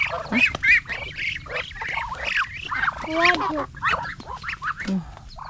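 Ducks on a rural farm with an organic vegetable garden honk and quack repeatedly at close range, in irregular overlapping bursts over a quiet background.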